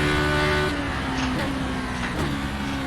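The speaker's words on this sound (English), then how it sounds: "Something so satisfying about banging through the gears on a manual box in this thing." Race car engine in iRacing with a manual dog gearbox, loud and close, revving steadily with distinct drops in pitch at each quick upshift, several gear changes in a row.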